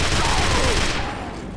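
Sustained video game gunfire keeps up a dense, loud, continuous rattle of shots up close, easing slightly toward the end, with no pauses between bursts.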